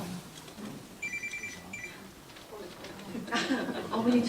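A telephone rings in two short electronic bursts at a community talk event, sitting under ongoing speech and room noise, with louder talking and clatter following the rings.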